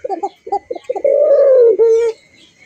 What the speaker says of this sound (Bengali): ডাক কোকার তো সবাই ডাকই পছন্দ করে, কোকার মেইন হইলো ডাক।